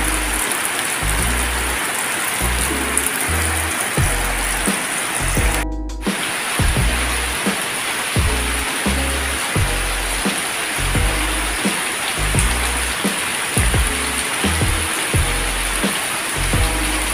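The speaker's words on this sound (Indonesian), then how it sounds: "Hujan tidak berhenti, mau keluar nggak bisa." Heavy, nonstop rain pours down outside a house porch, with water overflowing; a steady, loud, hissing wash fills the whole stretch, with a brief dropout partway through.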